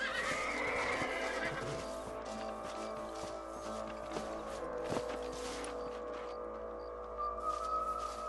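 Horse neighs and whinnies from the Western video game Red Dead Redemption, set over a dense, steady bed of game ambience and music, with a sharp burst near five seconds.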